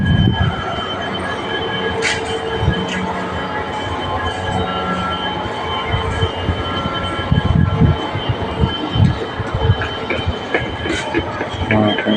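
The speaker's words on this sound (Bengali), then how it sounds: "ট্রেন ঢুকছে একটা।" A train rolls into a station yard full of parked trains, wheels squealing in sharp bursts over a loud, steady rumble of rail wagons, with faint voices nearby.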